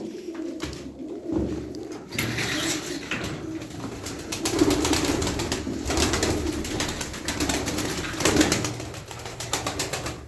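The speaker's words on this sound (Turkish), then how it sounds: "Kanat sesine bakın" A tumbler pigeon beats its wings in flight near a loft, giving a loud, continuous fluttering and clattering of feathers close by, with soft cooing mixed in and no voices.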